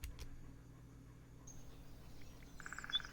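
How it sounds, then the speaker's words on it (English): Birds chirp faintly in old shade trees along a paved road toward town, with a few scattered short tweets over a low steady background hum. "listening to the chirping birds"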